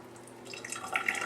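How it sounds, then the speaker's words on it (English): Tap water runs gently at a sink as a blood film slide is rinsed, a soft steady trickle with light dripping that swells slightly toward the end, close and quiet with no talk. "I'm just going to take it to the sink and I'm going to gently rinse off the back of the slide."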